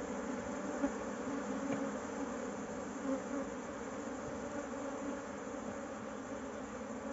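A dense, steady buzz of a honeybee swarm housed in a tire, fairly faint and constant, with no voices.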